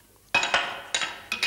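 A wooden spoon dropped and clattering on a hard surface, a sharp knock followed by quick bouncing clicks, then a second clatter moments later, close and clear with no talking.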